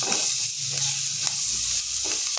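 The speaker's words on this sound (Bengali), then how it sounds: "হালকা করে একটু ভেজে" Chilies fry and get stirred in a pan for a sweet-sour chili pickle, giving a constant loud sizzle with occasional scraping stir strokes close by.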